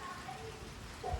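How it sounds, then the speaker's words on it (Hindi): Rain begins falling steadily onto a roof and the ground, a soft, even hiss that fills the space beside a parked Royal Enfield Classic motorcycle. "और ये शुरू हो गई बारिश।"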